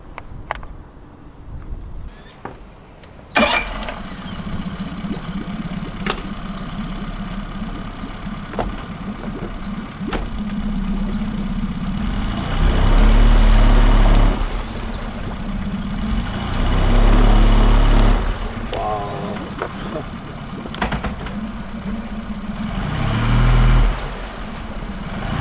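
Steady low rumble of boat engines running continuously, growing louder and heavier midway with deep surges, plus faint periodic clicks and chirps over the hum.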